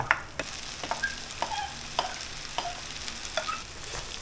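Vegetables stir-frying in butter in a home kitchen pan, a steady soft sizzle broken by repeated clinks and scrapes of a utensil at a quick, uneven rhythm, close and moderately loud with no talking.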